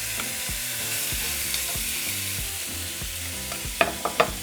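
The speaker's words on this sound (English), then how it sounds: "So we're just going to throw in our bacon." Bacon sizzling in a frying pan over high heat, a steady loud crackle with repeated stirring scrapes and a few sharp clinks near the end, no talk.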